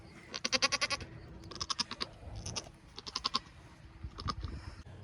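Several goats bleat in quick, repeated bursts, loud and close, in four clusters of strongly pulsed calls with brief quiet gaps between them on a farm during birthing, with no talk.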